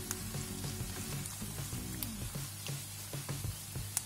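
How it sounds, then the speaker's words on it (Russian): Onion and chicken breast fry together in a pan, giving a soft, steady sizzling hiss over a low, constant kitchen hum. "Вот мы немножко обжарили до прозрачности лук. А теперь я добавлю грудку. И будем обжаривать их вместе."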